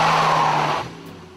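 A sporty car with a 1.4 litre 155 hp engine driving past, its loud engine and tyre noise close by for a moment before quickly fading away.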